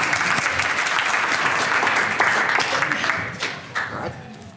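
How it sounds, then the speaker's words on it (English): An audience at a policy talk gives a warm round of applause, with dense, steady clapping that fills the room and then fades near the end. "we owe him a warm round of applause for his talk"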